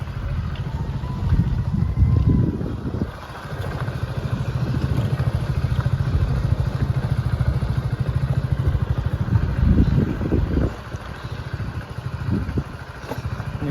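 A motorcycle being ridden on an outing near a hill shrine: a steady, loud engine rumble with wind and road clatter, continuous throughout with slight surges in intensity.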